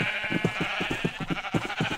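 Rapid, repeated sheep bleats in a video game overlap in a dense, loud chorus, steady throughout with a constant bright hiss behind them.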